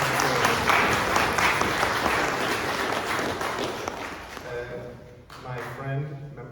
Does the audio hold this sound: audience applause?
yes